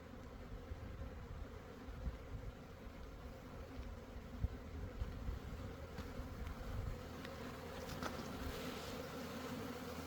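Honeybees buzz steadily around an open hive on a fine sunny day during a hive inspection, a dense continuous drone of many insects close by, with no one talking.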